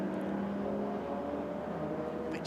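Race cars lap the Rockingham International long circuit in a Cartek Roadsports race, a continuous engine drone of several cars at moderate distance, steady and fairly faint.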